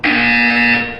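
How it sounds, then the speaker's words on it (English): A loud, steady electronic buzzer from the Portal 2 video game sounds once, holding a harsh tone for about a second before fading slightly at the end, with no talk over it. "You will hear a buzzer. When you hear the buzzer, look down at the floor."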